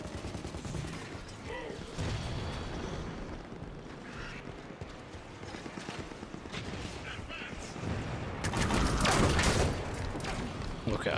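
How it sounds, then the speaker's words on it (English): Turrets firing in a video game: rapid bursts of gunfire under continuous game noise, growing louder and denser toward the end. "Turrets on and firing."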